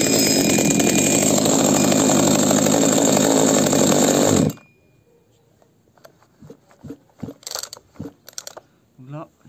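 A Zenoah G300 chainsaw engine runs loud and buzzing at close range, then cuts off abruptly partway through, followed by quiet clicks and handling noises.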